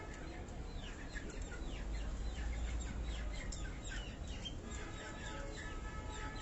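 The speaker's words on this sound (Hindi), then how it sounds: "ये सियालकोटी नस्ल का ये कबूतर" Sialkoti breed pigeons in a rooftop loft give off a steady run of close, busy bird calls and chirps over a low background rumble, with no talking.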